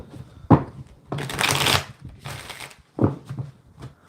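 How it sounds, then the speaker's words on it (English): Tarot cards being shuffled by hand in a few brisk riffling bursts, close and clear, separated by short pauses and soft handling noise. "Couple more shuffles."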